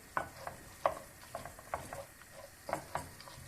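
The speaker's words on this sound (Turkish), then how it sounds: "Bu şekilde eklediğim pirincimi 2-3 dakika boyunca kavuracağım." Washed rice toasting in a pot for saffron meat pilaf, a light sizzle broken by irregular scraping stirs of a utensil against the pot, several sharp strokes close up with no talking.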